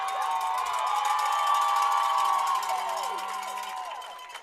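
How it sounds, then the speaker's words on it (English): Soccer fans cheering for the Randolph Wildcats at a men's college match against Lynchburg, a crowd of high-pitched shouts and whoops that rises, holds and then tails off, heard from a distance across the field. "Wildcats fans cheering on their right back"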